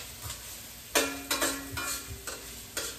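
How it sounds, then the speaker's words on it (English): A cooking spoon that came with the wok stirs vegetables over a steady background sizzle, landing several distinct metallic scrapes and clanks against the wok at an uneven pace. "Let me stir this up a little bit."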